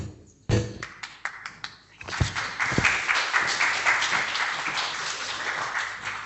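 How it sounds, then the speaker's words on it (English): A few scattered, close hand claps at a memorial gathering grow after a moment into fuller applause from the seated audience, which holds steady for several seconds with no one speaking. "I just felt like such beautiful words needed a clap afterwards"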